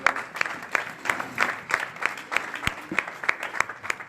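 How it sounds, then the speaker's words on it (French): A church congregation claps together in a steady rhythmic beat, sharp regular hand claps filling the room with a faint crowd murmur beneath. "Si on peut s'asseoir, on acclame Jésus."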